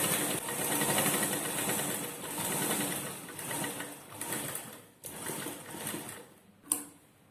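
A tailoring sewing machine stitches gathered fabric shimmies, a steady fast mechanical whir running near and loud, pausing briefly around the middle and near the end with a short clack.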